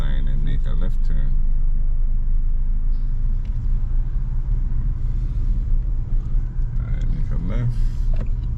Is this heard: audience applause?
no